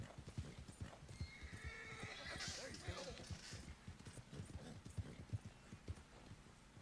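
Hooves clip-clop in a steady rhythm while a horse gives a clear whinny from a Red Dead Redemption rose grey bay horse, with a person talking softly underneath.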